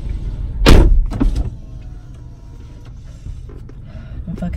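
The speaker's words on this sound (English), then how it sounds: "can you just close the door, please?" A single loud thud of a car door slamming shut nearby, followed by a brief rattle and then a quiet car interior hum.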